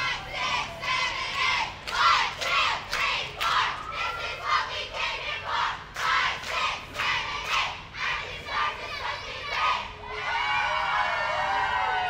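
Active Stars youth cheer squad, ages 4 to 18, shouting chants in rhythmic bursts while marching in the Celebrate CB Parade 2022, voices loud and close with crowd noise around, ending in a sustained cheer.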